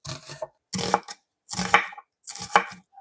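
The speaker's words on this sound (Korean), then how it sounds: "양파는 1cm 조금 안되게 썰어 주세요" A knife chops onion on a wooden board while vegetables are cut for spicy yellow croaker stew, in four distinct bursts of quick, crisp knocks separated by brief pauses, close and moderately loud.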